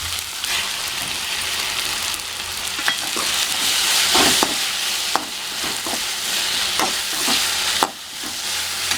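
Onions sauté in hot oil for bajji masala as tomatoes go in, a loud continuous sizzle broken by repeated scraping and tapping of a spatula stirring the pan.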